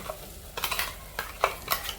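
Spices and a ground paste of onion, coconut and coriander sautéing in a pan for a village-style mutton dish, soft sizzling broken by several brisk spatula scrapes and clinks, close up with no talk.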